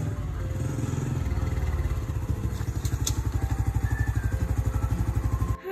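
Honda Supra motorcycle arriving, its close single-cylinder engine putting out a loud, rapid, even thumping idle that grows more pronounced near the end, with no talk over it.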